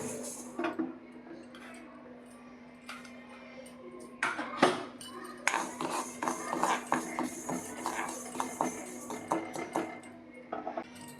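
Fenugreek seeds roast in a pan for amla pickle, with repeated light metallic clinks and scrapes of stirring over a steady low hum, close by and moderately quiet.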